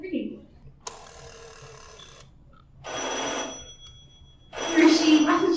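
A telephone bell rings in a radio drama, two long broadband ringing bursts followed by a third, loud and close, separated by brief pauses with faint low background.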